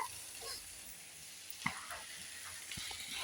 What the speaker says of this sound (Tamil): ஆனியன் வந்து ப்ரௌன் ஆகிற மாதிரி கொஞ்சம் கோல்டு ஆகிற மாதிரி பார்த்து நல்லா வதக்கிட்டு